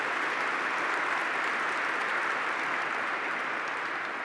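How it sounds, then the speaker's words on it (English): Dinner guests at an award dinner give a brief round of applause, an even, continuous patter of many hands heard from a distance at moderate level, with no speech. "if we could just give them a quick round of applause"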